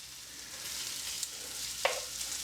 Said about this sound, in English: we're going to fry up your good old beef